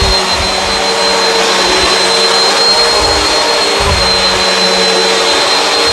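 A Bissell CleanView Swivel upright vacuum cleaner runs on carpet picking up bits of dirt, a loud, constant motor whine with a steady high tone and rhythmic low thumps as it is pushed back and forth.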